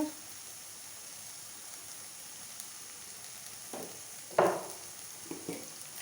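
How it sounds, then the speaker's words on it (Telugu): Fried ivy gourds stirred in a hot pan with a soft, steady sizzle throughout, and a single louder scrape of the spoon against the pan near the end, followed by a couple of lighter clinks. "ముందుగా ఫ్రై చేసుకున్న దొండకాయలు కూడా ఇందులో వేసుకొని ఇవి బాగా మిక్స్ అయ్యేలాగా కలుపుతూ ఉండాలి"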